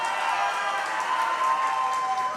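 Audience applause in a crowd at a live gaming showcase event, steady broadband clapping and some cheering that holds at an even, moderate level for a couple of seconds without a break.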